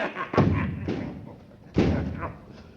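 Two heavy knocks on a door in a full-cast audio play of Shakespeare's Macbeth, each a loud booming thud about a second and a half apart, with faint talk between them.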